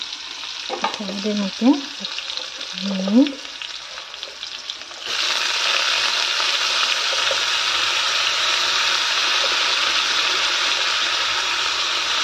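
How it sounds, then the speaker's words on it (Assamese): Onions dropped into hot oil in a pan for a home-cooked lunch, with a brief stir and light clatter, then a loud, steady sizzle that fills the rest. A voice speaks briefly at the start. "ইফালে মই পিঁয়াজ দি দিলোঁ"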